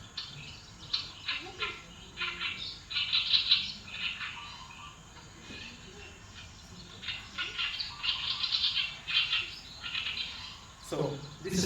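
An oriental reed warbler calls in marshland, its chirping, scratchy phrases repeating in bursts at moderate distance over a constant insect-like hum from the wetland, with a brief louder knock near the end.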